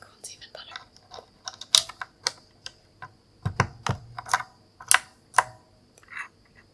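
Keycaps going back onto a pink Razer RGB keyboard make a close, quiet sequence of crisp plastic clicks and taps, spaced irregularly and sometimes in small clusters, with soft whispery sounds between them.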